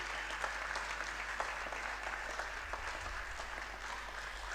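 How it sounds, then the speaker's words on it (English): A university convocation audience in Lagos applauds steadily, a fairly faint, even wash of clapping heard from a distance over a low hum. "Please give her another round of applause."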